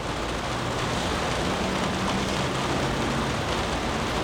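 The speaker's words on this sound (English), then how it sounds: "We got some rain." Rain falling at Spartan Stadium, with water running down from the tunnel, makes a steady, even wash of hiss that continues throughout with no voices.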